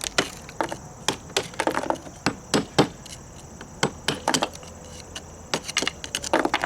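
A brick being cut out of a brick wall during repair, heard as a string of sharp, percussive knocks and scraping chips at an uneven rhythm, close and fairly loud with no talking.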